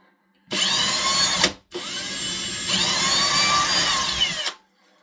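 A power drill bores a small hole through sheetrock in two close, loud bursts, a short spin then a longer one whose pitch changes partway, with silence before and after.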